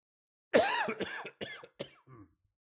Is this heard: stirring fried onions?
no